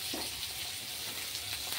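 Dried fish frying with garlic, onion and ginger paste gives a steady, even sizzle that stays at one level throughout, with no voices over it.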